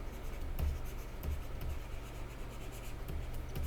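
Marker strokes on a whiteboard during a geometry lesson: short squeaky scratches and rubs in quick succession, faint and close, with no talking.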